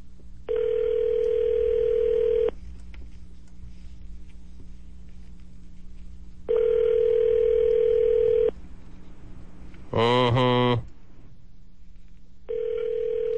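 A telephone rings unanswered through a handset, steady tone bursts repeating about every six seconds with a brief higher trill near the middle, heard alone with no talking.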